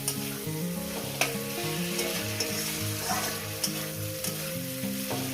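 Mourala fish and potatoes fry in a pan with a steady, close sizzle and a few sharp stirring clinks, all under continuous background music.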